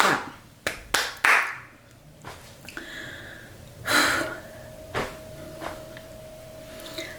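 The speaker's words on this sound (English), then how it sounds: "Clap, clap, clap." A few sharp hand claps at the start of a home podcast recording, close and distinct, followed by quieter scattered knocks and handling sounds in a small room.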